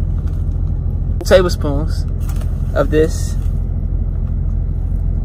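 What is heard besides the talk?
truck rumbling while driving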